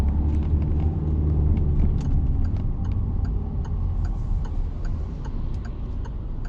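A car engine picks up revs as the clutch is eased out to pull away without stalling. It is a steady, loud low rumble from inside the cabin, with a faint repeating tick over it, and no one speaks.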